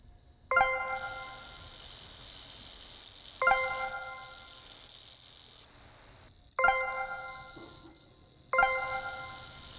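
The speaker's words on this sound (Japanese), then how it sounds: "ほぼ全ての方向のスズムシたちが共に鳴き出した" Bell crickets (suzumushi) answer a speaker's tone with bright ringing chirps in short bursts, a few seconds apart, over a continuous high, faint insect trill.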